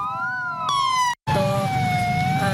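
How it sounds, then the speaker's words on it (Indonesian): Ambulance sirens from three units wail together at a solidarity vigil, loud overlapping tones that rise and fall, cut by a brief silent gap before resuming. "diakhiri dengan pembunyian sirine dari 3 unit ambulans"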